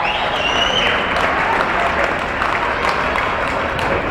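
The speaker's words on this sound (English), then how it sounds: "enjoy a warm round of applause for their game time and their season so far" A crowd at a girls' high school basketball game claps loudly and continuously, a dense wash of applause that stays strong from start to finish, with a few whistles.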